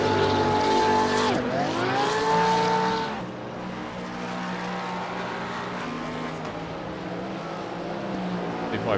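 Race cars leave the pits, a Porsche among them. Loud high-revving engines rise and fall sharply as they pass close, then settle into a steadier, more distant drone.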